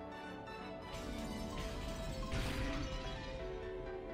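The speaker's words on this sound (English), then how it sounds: "All over the mansion, there were loud, beating sounds that might be called a knocks, and the sound of shattering glass" Loud knocking and shattering glass throughout a mansion in the visual novel Umineko When They Cry, a continuous dense crash with a brighter smash burst midway over a steady background.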